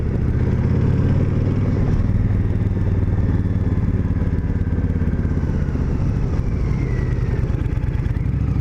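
A Honda motorcycle engine runs steadily close by, a deep, continuous throbbing rumble with light mechanical clatter and no one speaking.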